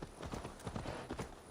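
Hooves of a purebred steed in Assassin's Creed Valhalla clip-clop in a steady, fairly quick rhythm, close and moderately loud, with no other sounds over them.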